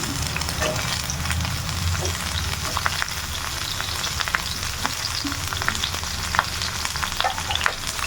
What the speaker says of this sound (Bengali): তো এখন এইটা ভালো করে এর সঙ্গে কষিয়ে নেব